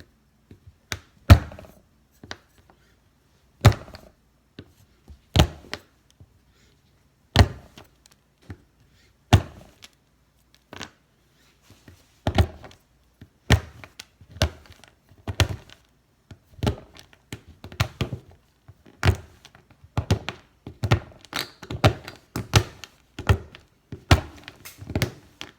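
A sharp knife chops chocolate for a death chocolate cheesecake, giving crisp, irregular thunks on a board, sparse at first and then in quicker, denser bursts, close and fairly loud with no talking.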